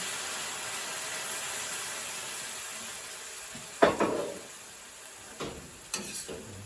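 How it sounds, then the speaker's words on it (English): Red wine poured into a simmering moussaka sauce: a steady low sizzle throughout, then a sharp hiss and a burst of bubbling near the end, followed by a few quieter splashes and clinks. "we'll add some red wine"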